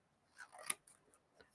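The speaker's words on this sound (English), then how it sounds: "I literally take my scissors and I'm going to chop" Scissors chop through a small piece of craft material, with a few quiet, close snips and a sharp clipped cut in the middle, otherwise near silence.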